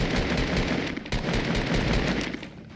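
Automatic gunfire rattles in the Fortnite video game as a dense, loud, continuous stream of rapid shots with one brief gap, with no voices.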